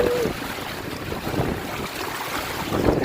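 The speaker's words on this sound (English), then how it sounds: "The wind has picked up now, suddenly." Strong, gusty wind roars across a sailboat in heavy weather, loud buffeting rush against the microphone with surging swells, steady throughout the short stretch.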